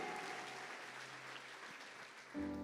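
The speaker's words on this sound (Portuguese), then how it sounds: "Você pode aplaudir ao Senhor?" A church congregation applauds the Lord during a Portuguese sermon, a steady dense wash of clapping that fills the room without a break, while a faint tone sits underneath.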